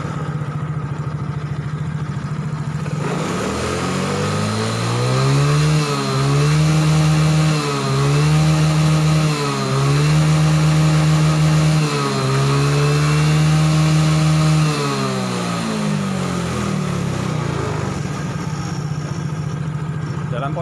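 A Yamaha X-Ride motorcycle engine idles at about 1500-1600 RPM during an injector-cleaning procedure, a loud, steady mechanical drone with slight rhythmic rises and dips in pitch.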